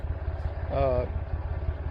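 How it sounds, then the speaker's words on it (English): A 1962 Massey Ferguson tractor engine pulling a welded spike tooth harrow, a steady low rhythmic chugging close by, with a brief voice speaking over it. "This tractor is pulling it just fine."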